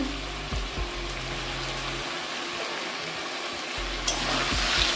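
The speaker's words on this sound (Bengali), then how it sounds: "আমি আলুটা ফোড়নের সঙ্গে টমেটো ফমেটো দিয়ে মিশা মানে মিশিয়ে কষাচ্ছি টমেটো দিয়ে" Potatoes sauté with tomatoes in oil tempered with cumin, dried chili and bay leaf, with onion and garlic, giving a steady soft sizzle broken by low thumps and clinks of stirring, no speech.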